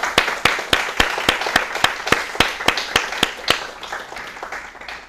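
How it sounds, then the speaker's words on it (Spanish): Rhythmic applause follows a medical lecture, with sharp, evenly spaced synchronized claps from an audience that loosen and thin into scattered clapping toward the end. "un fuerte aplauso para todos"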